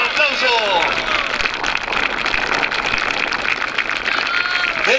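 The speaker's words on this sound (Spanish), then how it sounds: "¡Fuerte los aplausos!" Outdoor rodeo crowd applauding a champion rider: steady, dense clapping from many hands, fairly loud and continuous, with an announcer's voice faintly under it.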